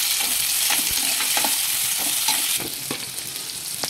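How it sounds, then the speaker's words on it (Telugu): Coconut pieces frying in a pan for chamgada pulusu, a steady close sizzle with scattered stirring clicks and scrapes throughout, no talking. "సగం కొబ్బరి ముక్క కూడా వేసేస్తున్నాను. ఇది కొంచెం దూరంగా వేయించుకోవాలి."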